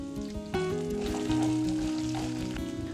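Dried red chili, shallots and eight garlic cloves fry in hot oil for a Tamil sundakkai puli kuzhambu, a steady close sizzle that swells loudly as each ingredient hits the pan, with no voices.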